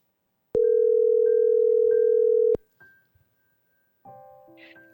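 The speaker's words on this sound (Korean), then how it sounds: "먼저 한번 전화를 연결해 보겠습니다" A phone line connecting for a call-in counselling segment: a loud steady dial tone holds for about two seconds and cuts off sharply, followed by short clicks and a burst of connection beeps.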